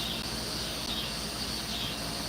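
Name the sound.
cicadas chirping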